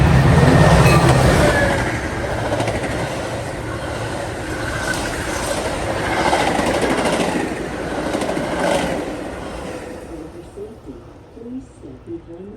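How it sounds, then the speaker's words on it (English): An outbound train rolls through a station without stopping, its rumble and rattling wagons loud and steady for about ten seconds, then fading as it clears the platform, with station announcements playing over it. "next outbound train approaching your station will not stop"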